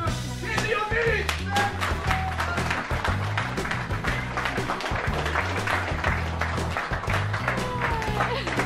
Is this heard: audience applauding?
yes